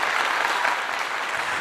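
Steady applause from an audience, a dense wash of clapping hands that holds at an even level throughout with no voices rising above it.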